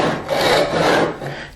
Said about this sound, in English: I'm going to use my tenon saw to start the cut